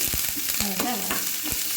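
Chopped onion, green chili, ginger, curry leaves and coriander leaves are stirred into kara paniyaram batter in a pan, making a few close, wet scraping and sloshing strokes over a faint sizzle.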